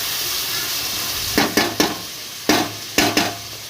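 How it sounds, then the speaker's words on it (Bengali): Potatoes fry with chicken curry meat in a pan, giving a continuous close sizzle marked by six loud scraping stirs in two quick bursts, with no speech. "এর মধ্যে আমি মাংসের আলুগুলো দিয়ে দেবো এর সাথে সঙ্গে আলুগুলো ভাজা হয়ে যাবে"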